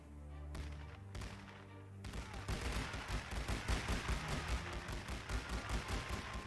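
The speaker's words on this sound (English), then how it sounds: "Those appear to be my troops firing at them, at the British troops who are just hanging out in the open" Troops firing rifles in the World War I strategy game The Great War: Western Front: a dense crackle of many overlapping shots that builds after a quieter opening with low hum, steady and moderately distant.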